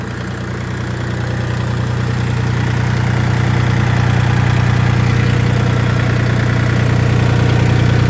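A Dongfeng 244G2 tractor engine runs steadily at raised revs, a loud, constant low diesel drone with a slight knocking texture that holds unchanged throughout, no voices.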